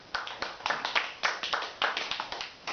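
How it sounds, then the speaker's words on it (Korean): Applause at a Korean mental-health self-help group's monthly meeting, a small group clapping in uneven, distinct bursts, fairly near, with individual hand claps audible. "다시 한번 박수"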